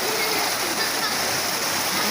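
A flooded river rushes during heavy rain, a constant broad roar of water that stays loud and unbroken throughout.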